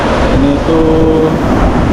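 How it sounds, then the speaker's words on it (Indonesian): Strong wind buffets the microphone at Pelabuhan Ratu beach in late afternoon while heavy surf roars steadily underneath, a loud, continuous wash of noise with no voices. "jadi anginnya lumayan kencang. Ombaknya udah mulai deras."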